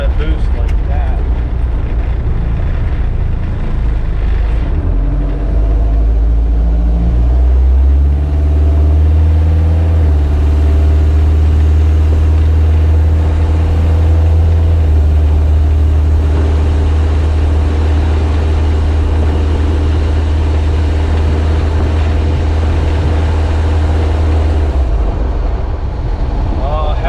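A Kubota diesel engine swapped into a Jeep TJ Wrangler drones steadily under light boost while driving, a loud, continuous low rumble with a slight rise in pitch partway through, and a voice talking over it at times.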